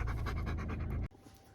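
A thirsty, tired dog pants rapidly and loudly close by for about a second, with quick rhythmic breaths that stop abruptly, leaving quiet room noise behind.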